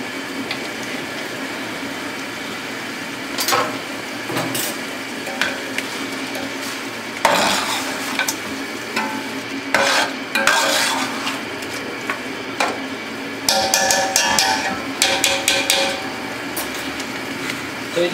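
Biryani spices with a splash of kewra are stir-fried in a pot, a low steady sizzle broken by repeated scraping and clanking of a metal spoon against the pan, louder toward the end.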